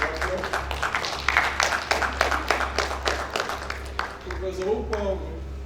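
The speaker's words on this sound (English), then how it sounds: "I want us to honor him with a round of applause." A workshop audience breaks into a round of applause, a dense patter of many hands clapping that fades toward the end, with a voice speaking over and after it.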